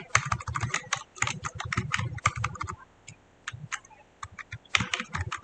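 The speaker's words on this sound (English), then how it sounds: "You have to press K button on your keyboard for the text." Rapid typing on a computer keyboard, close and clear, with dense bursts of keystrokes, short pauses, then another quick flurry of keys.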